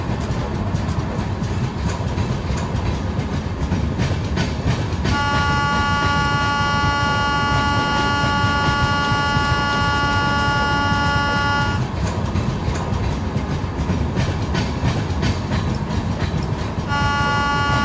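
Simulated Indian train, a WAP7 electric locomotive hauling the Paschim Express on a Himachal route in Trainz Simulator. It has a continuous rolling rumble with clickety-clack, and a long sustained horn blast in the middle and another near the end.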